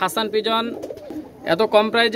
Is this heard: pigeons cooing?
yes